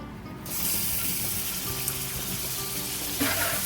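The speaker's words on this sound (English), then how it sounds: "I'm gonna go ahead and start frying up the bacon" A steady, hissing sizzle of bacon frying in a hot pan starts abruptly and holds at an even level, with no voices.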